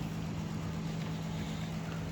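Steady, even engine drone from a BMW E30 fitted with a custom exhaust and an HKS open air filter, a low constant rumble holding at idle throughout with no voices.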